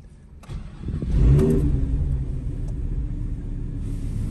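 Car engine cranks and catches, then revs once with a deep rising roar and settles into a steady, close, rumbling idle; no one speaks.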